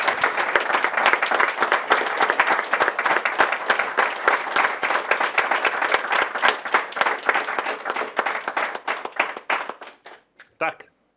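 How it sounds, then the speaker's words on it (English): Audience applause for an ambassador after a talk on Mali and the Sahel; close, vigorous clapping from a modest crowd that gradually thins out into a few scattered claps and stops, with speech likely mixed in. "please join me in a big hand of applause to the Ambassador"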